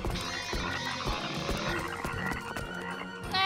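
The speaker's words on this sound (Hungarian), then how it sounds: "Békák!" Cartoon frogs croak in quick bursts amid a busy animated scene with music, the rhythmic croaks repeating throughout and a sharp rising tone at the very end.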